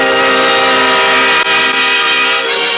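A tram rumbles and sounds its horn as a sound effect in a 1950s radio mystery drama, a loud, steady tonal drone held throughout with a brief dip midway; no voices.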